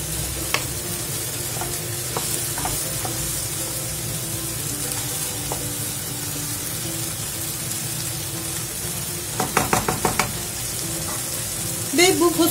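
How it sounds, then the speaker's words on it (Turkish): Beans and spices are sautéed in a pan, giving a steady sizzling hiss with scattered stirring scrapes and a few sharp utensil clicks near the end. "Sıcak suyumuz kaynayana kadar iyice kavuralım."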